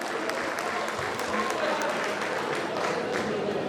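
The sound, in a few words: alumni audience applause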